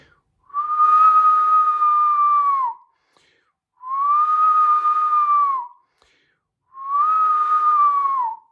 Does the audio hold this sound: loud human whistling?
yes